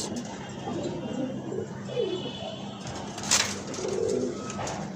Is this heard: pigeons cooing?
yes